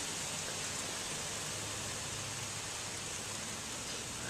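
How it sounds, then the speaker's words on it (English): Steady rain pouring down during a thunderstorm, a dense even hiss with no thunder or talk, constant and fairly loud throughout. "It's raining."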